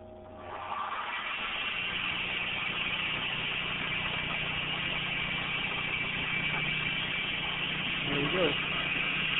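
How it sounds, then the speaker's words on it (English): An RF45 CNC mill spindle spins up and runs steadily during a flycutting test pass, giving a constant close mechanical hum from start to finish. "Turn on the spindle."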